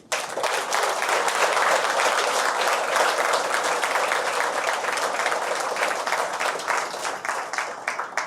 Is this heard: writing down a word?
no